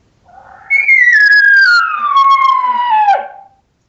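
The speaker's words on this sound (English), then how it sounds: "when you have a cow bugle, you're going to hear a sound like this here" A single long, clear whistle-like cow elk bugle, rising sharply then sliding slowly downward for about three seconds, ending abruptly, with no other sounds around it.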